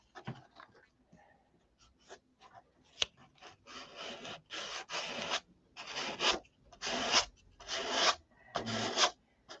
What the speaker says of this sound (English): Gotta sand out.